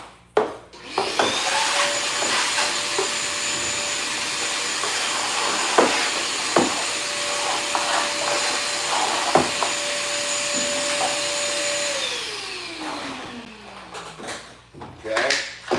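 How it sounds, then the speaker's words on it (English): A vacuum cleaner runs steadily at close range while cleaning up during trim and base molding installation, a continuous whine with a pitch drop as it spins down near the end, broken by occasional knocks. "Let's get a vacuum real quick."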